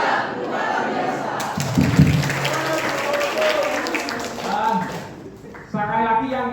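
Training session audience in Indonesia clapping together, a loud burst of applause mixed with shouting voices, subsiding before a speaker talks again near the end.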